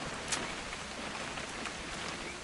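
In What Remains of Edith Finch, a brief stretch of rain gives a steady noisy wash with a few sharper drop ticks, moderately loud and heard on its own.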